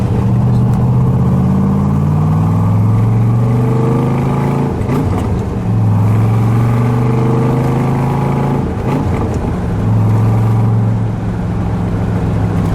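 A fuel-injected 1965 Chevrolet Corvette Stingray V8 on a warm-up run, its engine revving steadily and loud with rising and falling pitch sweeps, two brief dips around five and nine seconds, close and continuous with no talk.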